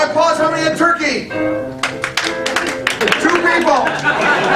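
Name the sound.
audience applause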